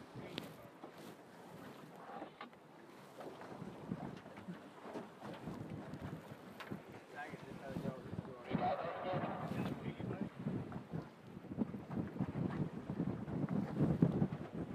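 Gusty wind at a hydrofoil race in Australia buffets the microphone in heavy rumbling bursts, with people talking and shouting over the roar.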